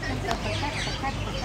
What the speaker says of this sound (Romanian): Ia vezi că vine bibilica.